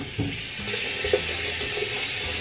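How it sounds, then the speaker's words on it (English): Water running from a tap into a bathroom sink while a face is rinsed, a steady hiss with a few soft splashes, close and continuous with no talking. "Time to rinse my face."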